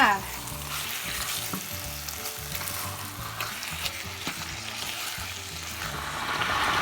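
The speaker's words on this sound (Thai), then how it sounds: "ใส่เกลือลงไปค่ะ คนให้เข้ากันค่ะ" Sugar and salt are stirred into a Thai chicken yellow curry sizzling in a pan, a continuous loud frying hiss with repeated scraping strokes of the spoon throughout, no voices.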